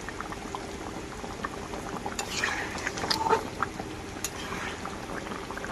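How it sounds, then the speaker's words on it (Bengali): Pumpkin and potato curry with fish bubbling in a pot over a village kitchen fire in the Sundarbans, a soft steady simmer with scattered pops and gurgles, close and fairly quiet, a few louder bubbles midway. "কুমড়ো আলুর তরকারি বন্ধুরা ভালোভাবে ফুটে উঠেছে, এর মধ্যে মাছ দিয়ে দেবো।"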